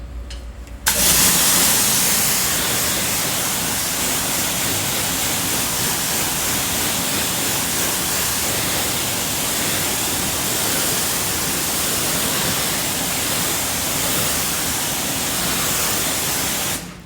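Water from a hose sprays steadily over a car door coated with Gyeon Wet Coat, a loud, continuous hiss starting after a brief quiet moment and running unbroken to the end.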